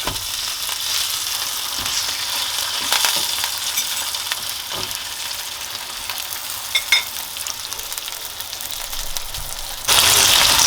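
Steak sizzles and fries loudly in a hot pan, a dense continuous crackle with occasional sharper pops and a brief surge in intensity near the end.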